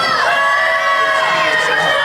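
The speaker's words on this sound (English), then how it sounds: "The crowd not enjoying Ricky at all" A wrestling crowd reacts against Ricky Gunz with loud, continuous shouting, jeering and whoops from many voices, filling the arena without a break.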